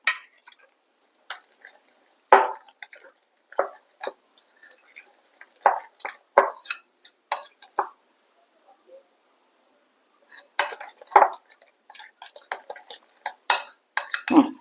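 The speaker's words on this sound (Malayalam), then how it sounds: "ഒരു ടേബിൾ സ്പൂണോളം ഗോതമ്പ് പൊടിയും കൂടി ഞാൻ ഇട്ട് കൊടുക്കുന്നുണ്ട് അതും കൂടി നന്നായിട്ടൊന്ന് മിക്സ് ചെയ്യാം നമുക്ക്" A spoon clinks and scrapes against a bowl in short irregular bursts while a spinach snack mixture is mixed with wheat flour, close and sparse, with a quiet pause midway.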